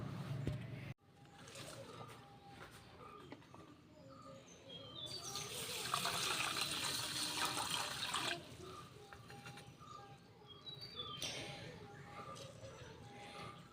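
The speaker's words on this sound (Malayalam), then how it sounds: "നമുക്ക് ഇതിനകത്തേക്ക് കുറച്ച് വെള്ളം ഒഴിച്ച് കൊടുക്കണം" Water splashes and pours steadily into a container for a few seconds, with faint bird chirps and background noise around it.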